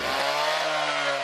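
A power tool cuts through sheet metal on a pickup truck bed during a vintage-style tow truck bed build on a Chevrolet C10, giving a loud, steady, harsh whine that runs alone without pause.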